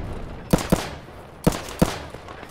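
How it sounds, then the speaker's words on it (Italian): Four sharp gunshots ring out in Escape From Tarkov, fired at an AI scav in a garden, coming in two quick pairs about a second apart against a quiet background. "Sei te che spari allo scav?"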